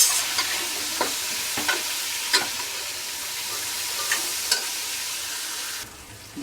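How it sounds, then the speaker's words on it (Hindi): Tomatoes and green chilies go into a pan of browned garlic, ginger and onion, giving a steady, close sizzle of frying with scattered sharp clicks and scrapes from stirring, with no talking. "अब इसमें ये 2 अदद टमाटर थे वो डालेंगे और जो हरी मिर्चें थी वो इस तरीके से डाल देंगे।"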